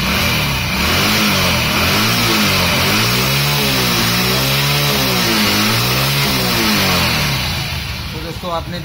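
A motorcycle engine with a kick-start lock problem runs and revs up, a loud, buzzy mid-pitched drone that rises and falls in repeated swells close by, with a voice talking over it.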